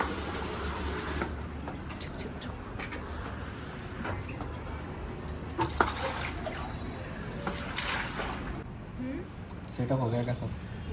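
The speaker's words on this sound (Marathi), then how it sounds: "आणि मी पाणी सोडते." Water runs steadily for washing, a continuous rushing splash that stays moderately loud, with occasional knocks and faint voices in the background.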